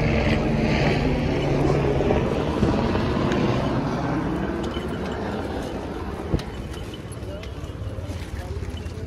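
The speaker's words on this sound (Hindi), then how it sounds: "ये हेलीकॉप्टर देखो कहाँ से जा रहे हैं सारे।" Helicopters drone overhead along a crowded mountain pilgrimage path to the Amarnath cave, a loud, steady rotor rumble that fills the scene while people talk nearby.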